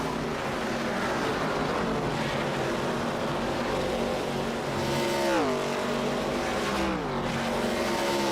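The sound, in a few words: race cars driving at Darlington in iRacing video game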